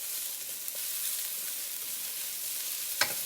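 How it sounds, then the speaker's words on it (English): Onions sizzle in a pan, softening toward translucent for a spaghetti al pomodoro. A soft, even sizzle is heard alone, with a sharp scrape of stirring near the end. "Oh, and you can hear that lovely sizzling sound."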